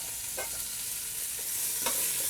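Chopped onion and carrot frying in lamb shank drippings, a steady close sizzle with a couple of brief stirring scrapes, no voices.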